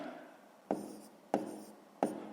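Pen or chalk on a surface while a math solution is written out: three sharp tapping strokes spaced evenly, each followed by a brief scratchy trail, close and fairly quiet.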